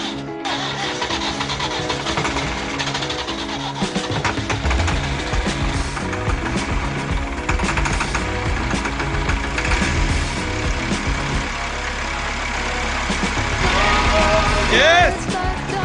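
A car engine cranks and catches after the starter is bypassed with jumper cables, then runs loud and rough throughout. Faint voices come in near the end.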